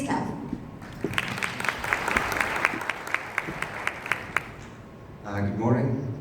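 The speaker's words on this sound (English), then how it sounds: "Please clap." An audience at a freight-industry business event applauds a speaker being introduced, steady scattered clapping from a moderate crowd that fades out, followed by a voice beginning to talk.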